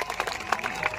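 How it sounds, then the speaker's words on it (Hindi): Audience clapping at a first-ever stage show, a dense burst of applause with a few louder claps standing out, steady and close throughout its brief length, with faint crowd noise mixed in. "भाई जोरदार ताली"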